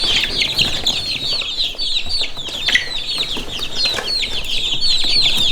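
A group of Italiener and Ancona bantam chicks gives constant high, shrill peeping and cheeping, many overlapping calls close by with light rustling and no talk.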